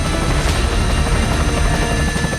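Firefighting helicopters over the burning Palisades hills in Los Angeles, a loud, constant rotor roar with dense rapid chopping that fills the scene, no voices.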